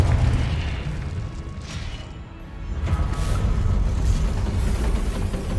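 A Confringo spell explosion in the video game Hogwarts Legacy, heard as a loud, sustained booming rumble with crackling debris that dips briefly, then swells again over a dense low roar.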